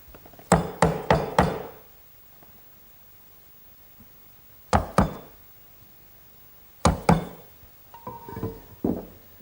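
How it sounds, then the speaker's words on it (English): Sharp wooden knocks from a 3/4 inch chisel being struck to clean out mortise corners for an English garden bench: a quick run of four blows, then two pairs of strikes separated by quiet pauses, close and crisp. "I'll chisel out the remaining corners"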